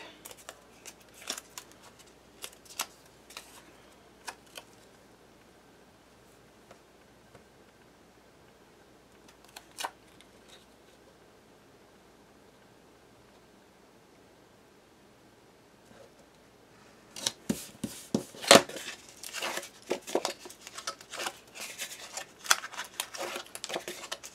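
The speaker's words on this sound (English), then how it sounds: "Removing tape." Adhesive tape peeled from a paper mat during mini album crafting, heard as a burst of dense crackling, ripping rustle in the final stretch after sparse ticks and handling noises, fairly close and with no talking.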